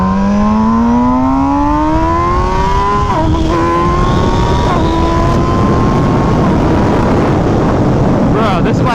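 An MV Agusta Brutale motorcycle engine revs while riding, a loud close rising drone that steps through gear changes under heavy wind rush, with a rider talking over it.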